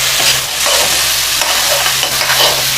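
Onions and capsicum stir-fry in a hot pan for baby corn mushroom chilli, a loud steady sizzle broken by repeated scraping stirs every second or so, close and without talk.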